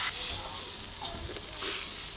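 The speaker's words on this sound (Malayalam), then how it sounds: "ആദ്യം ഉലുവ വറുത്ത ശേഷം കറിവേപ്പില, പച്ചമുളക് എന്നിവ ഇട്ട് വറുക്കുക" Fenugreek seeds, curry leaves and green chillies frying in hot oil for puli inji, a steady close sizzle with soft crackles and a faint stir partway through, no voices.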